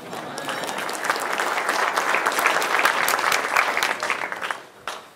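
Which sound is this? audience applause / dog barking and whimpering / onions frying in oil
audience applause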